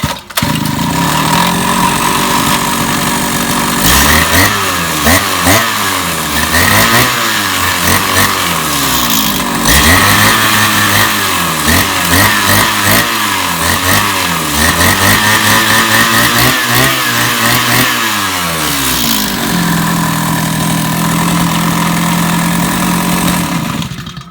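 Kawasaki TD40 brush cutter engine, modified with a pump carburetor, starting from cold and running: loud buzzing two-stroke idle with repeated rising and falling revs through the middle, then settling into a steady drone.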